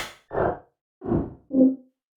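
Synth sounds from a Synplant plugin seed: three short, rounded, vocal-like blips with soft attacks, each lasting about a quarter second with gaps between, the last one more tonal, heard alone and fairly quiet.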